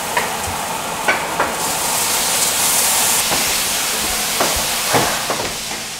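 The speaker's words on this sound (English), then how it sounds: "We're baking the onions." Onions cooking in a pan, a steady loud sizzle and hiss with occasional stirring knocks, close and continuous throughout.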